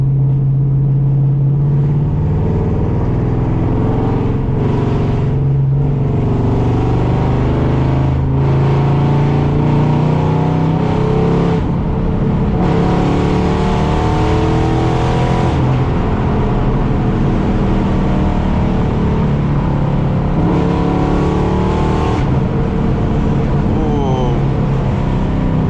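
A cammed Chevrolet Camaro driving, its engine droning loud and low with throaty rising and falling revs throughout, recorded from inside the car, with voices talking over it.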